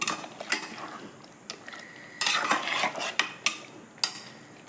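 A spoon scrapes and clanks against a metal pot while goat head and paya gravy is stirred, with close, sharp metallic knocks at irregular intervals over a soft, continuous scraping.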